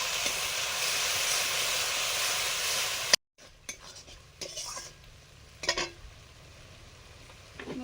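Cumin, ginger paste and chili powder fry in hot oil for a fish curry, giving a steady loud sizzle for about three seconds, then a cut to quieter scraping and stirring with soft hisses.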